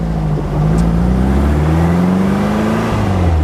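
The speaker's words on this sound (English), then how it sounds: "It's got dual carburetors, little performance 4-cylinder engine." A Porsche Speedster replica's small performance four-cylinder engine with dual carburetors runs steadily up close, its low droning hum rising and falling slightly in pitch through the whole stretch, with no talking.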